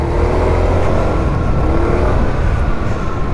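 A 2022 SYM HD 300 scooter engine accelerates with a steady, loud whirring drone and rising revs, close up and continuous, with no talk.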